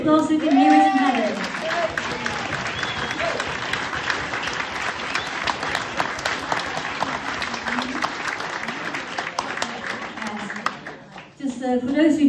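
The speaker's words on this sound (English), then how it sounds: "So give him a big applause, we can hear it in heaven." Sustained applause from an audience in a village hall, a dense, steady clapping that fills the room for about ten seconds, with a voice speaking briefly at the start and end.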